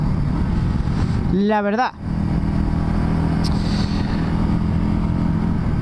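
A Voge 300 Rally motorcycle rides along a road, giving a steady engine and wind rumble throughout with a brief spoken phrase near the start.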